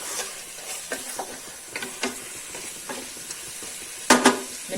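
Meat being stirred in a pot with a large spoonful of chopped parsley and coriander, giving a run of soft scraping and clattering strokes with low sizzling underneath, plus one louder clatter near the end.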